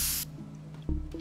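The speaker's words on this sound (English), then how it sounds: "Spray can? Oh, hell yeah, dude." Spray can hissing in the video game Teardown, a short loud burst of spray that cuts off, followed by a quieter, brief second puff.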